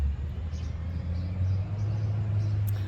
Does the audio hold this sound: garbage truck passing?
yes